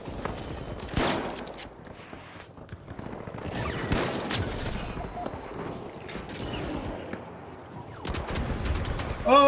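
Model 1887 shotgun fire in the video game The Finals, a series of sharp, punchy blasts spread across a busy fight, mixed with mechanical clatter, other gunfire and a player talking.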